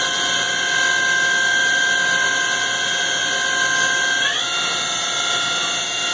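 A Hwacheon Sirius-U CNC machine spindle runs at 3,000 RPM, a steady close whine with strong high tones. The pitch steps up partway through as the speed changes, with no talk.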